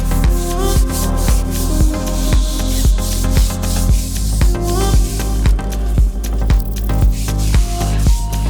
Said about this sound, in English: Let's remove all the gunk from the tire and make it actually look like new that it is.